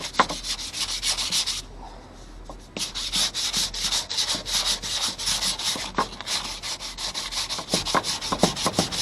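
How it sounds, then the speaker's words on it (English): Hand sanding over a painted top surface on custom clutch and winch mounts, a steady run of quick scratchy rubbing strokes with a brief pause partway through, close and fairly loud, with no talking. "I'm going to give this a good sand down"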